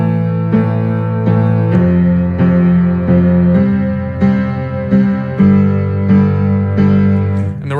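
A piano's left hand plays a syncopated bass accompaniment, steady chord-and-bass notes repeating in a loose rhythm, loud and close, with no voices.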